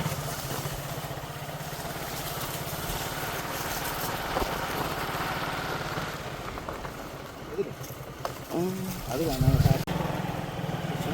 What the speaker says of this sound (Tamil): சுற்றி மோட்டர் சைக்கிளே போய் கொண்டிருக்கோம்